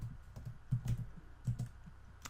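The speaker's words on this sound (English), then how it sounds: "So to get there, we have to type enable" A command being typed on a computer keyboard, a handful of quiet, close key taps in uneven clusters.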